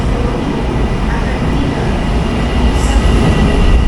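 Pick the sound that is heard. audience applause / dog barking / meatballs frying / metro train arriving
metro train arriving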